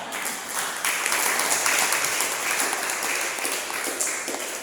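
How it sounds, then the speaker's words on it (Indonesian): Church congregation claps during a sermon, a dense, continuous wash of applause holding steady at moderate loudness throughout. "Tuh, tepuk tangan."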